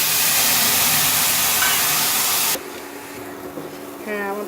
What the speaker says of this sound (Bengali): দিয়ে দেবো হালকা করে একটু পানি।